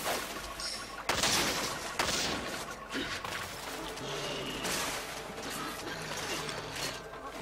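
Bowgun crouching fire in Monster Hunter 3 Ultimate, with rapid repeated shots in a dense clatter of game sound that stays loud throughout.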